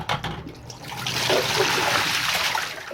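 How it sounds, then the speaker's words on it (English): Water poured from a bucket into an aquarium canister filter, a steady rushing splash that builds after a moment and continues at a constant, fairly loud level. "Pour that in there,"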